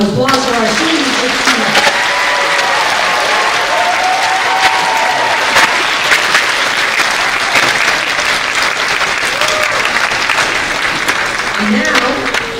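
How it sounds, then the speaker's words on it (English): An audience gives a long, loud round of applause for students at an event, dense clapping sustained throughout with crowd noise and some voices and cheers rising over it. "Let's have a huge round of applause for our students."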